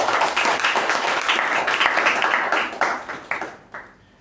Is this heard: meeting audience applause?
yes